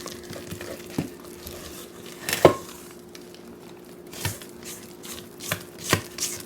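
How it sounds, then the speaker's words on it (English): A spoon scrapes and knocks through thick keto pumpkin spice cookie dough in a bowl, giving a few scattered sharp clacks and soft scraping strokes, close and intermittent with quiet gaps between. "I'm going to give it one more stir, just to make sure everything is well combined."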